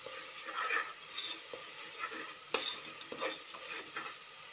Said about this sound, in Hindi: ऑयल को साइड्स में आने तक हमें मसाले को अच्छे से भूनना है।